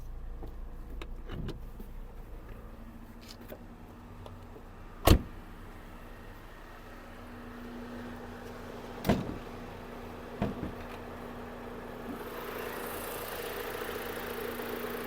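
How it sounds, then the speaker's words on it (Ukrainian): A steady low Opel Astra engine idle with the air conditioning and fans running, a fan-like hum punctuated by a few sharp clicks and a brief rise in blowing air near the end. "Робота двигуна, зараз у нас включений кондиціонер, увімкнені вентилятори"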